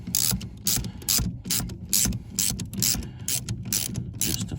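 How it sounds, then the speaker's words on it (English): A socket ratchet clicks in quick repeated bursts while a rear suspension bolt is tightened on a Montego T16 Turbo, each stroke giving a sharp run of pawl clicks at close range, with short pauses between strokes. "you either need a long reach socket, or like I say, if you've got a vortex socket set, you can use that."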